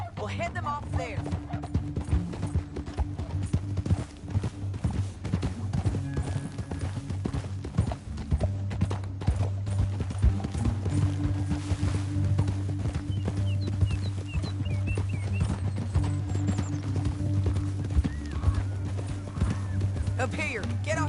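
Horse hooves clip-clop steadily alongside a horse's whinny, over a droning background, with voices talking at times.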